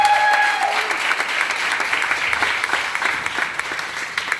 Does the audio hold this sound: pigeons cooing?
no